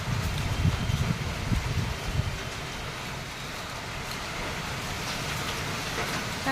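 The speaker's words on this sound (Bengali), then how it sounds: "দেখো বন্ধুরা, আমাদের এখানে বৃষ্টি আরম্ভ হয়ে গেছে।" Heavy rain pours down during a sudden February storm near Kolkata, a dense, continuous hiss of drops on surfaces with gusty wind and a low rumble, steady and enveloping with no talk.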